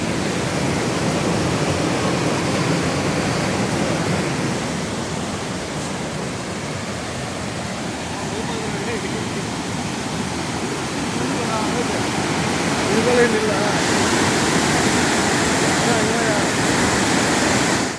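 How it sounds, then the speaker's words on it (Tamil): A roadside waterfall near Valparai rushes in a steady, close, broadband roar that holds unbroken throughout and swells slightly toward the end. "இங்கே ஒரு அருவி வந்து பார்த்தோம். அது நல்லா வந்து வாட்டர் ஃப்ளோ வந்து நல்லா இருக்குது"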